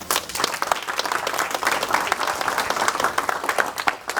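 An audience gives a speaker another round of applause after a leadership masterclass talk, steady dense clapping with individual claps poking through, sustained at an even level.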